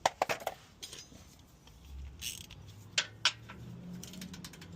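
Quick metallic ratchet clicks from a wrench with a 15mm socket working on the front steering of a 2013 Ford F250 6.7 Powerstroke, a fast burst at the start then two isolated clicks, close and faint.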